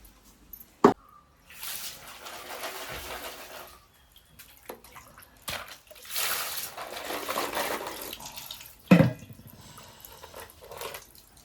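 Tap water runs and splashes over freshly caught crabs being washed for a village curry, arriving in intermittent bursts with a couple of sharp knocks and drips between gushes, close by with no talking.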